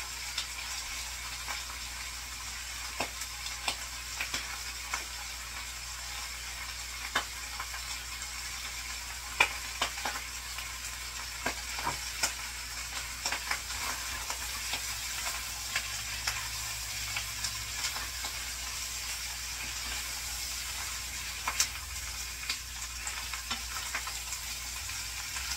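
Chicken feet adobo with garlic powder and black pepper stirred in a hot pan, giving a steady, close sizzling hiss broken by frequent small scraping clicks from the stirring.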